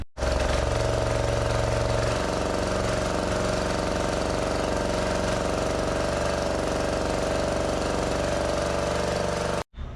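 A welding generator engine, freshly overhauled, runs steadily at a constant loud drone with a rough, knocking mechanical texture, close by, before it cuts off abruptly at the very end.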